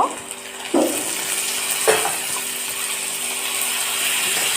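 Mutton pieces fry in hot oil for a mutton curry while a spoon scrapes and stirs them around the pan, with a continuous sizzle broken by two or three sharp clanks and scrapes.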